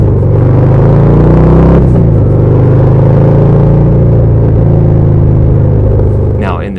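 A Harley-Davidson FXDR motorcycle with a tuned exhaust launches off the line, its deep, loud rumble holding steady for several seconds and then fading slightly near the end.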